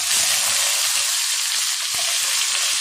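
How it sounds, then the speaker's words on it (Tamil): Loud, continuous hiss and crackle of eggplant and potato frying in hot oil, close up and steady throughout, with faint stirring knocks underneath. "காய் சேர்த்துட்டு நல்லா வதக்கிடலாம்"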